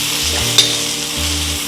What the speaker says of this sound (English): Next, we're gonna add chopped garlic. Give it a quick stir fry.